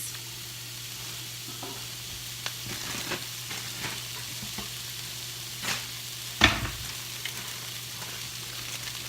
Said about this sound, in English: A little bit more olive oil back in the pan. Now we're gonna do onions.